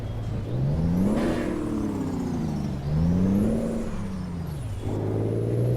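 A heavy truck engine in American Truck Simulator revs at high RPM, its drone climbing and falling in pitch over several seconds, loud and steady with no talk.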